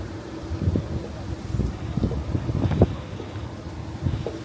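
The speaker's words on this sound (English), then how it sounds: "It's too windy to go up anywhere." Gusty wind buffeting the microphone, with low rumbling bursts and a steady roar, heard outdoors on a sandy beach path at Coco Cay, with no talking.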